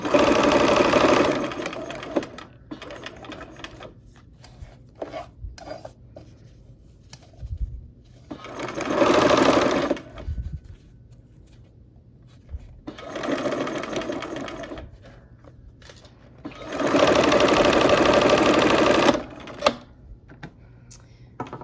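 A sewing machine stitches quilt blocks in several separate bursts of rapid whirring, each a couple of seconds long, with quiet pauses and small handling clicks between runs.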